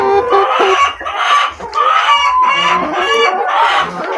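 Loud, close chicken clucking and squawking from several birds, continuous and overlapping, with a rooster-like crow mixed into the busy flock noise.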